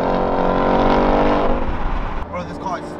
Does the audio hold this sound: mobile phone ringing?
no